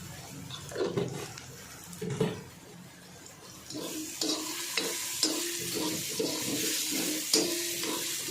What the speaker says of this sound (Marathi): व्यवस्थित मस्तपैकी असं परतून घ्यायचं